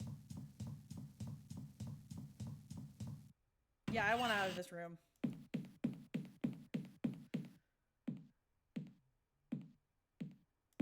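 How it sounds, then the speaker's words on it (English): Footsteps in the horror adventure game 5 Days a Stranger: a run of steady, evenly spaced thuds, then a slower, sparser series of separate steps after a brief burst of game sound, with a person talking over part of it. "I hear other footsteps that aren't me."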